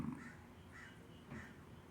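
Several crows caw in short bursts, with about three rough calls spaced across a couple of seconds, fairly faint over a steady outdoor background.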